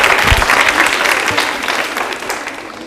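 A loud, steady round of applause from an audience at a women's polytechnic anniversary quiz show, dense clapping that tapers slightly toward the end with no voices over it.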